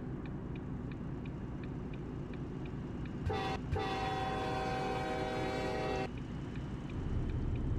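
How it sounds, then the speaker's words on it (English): A loud, sustained truck train horn blares for about three seconds after a brief opening blast, over a steady engine rumble with faint periodic ticking, in American Truck Simulator. "Give him a little train horn motivation there"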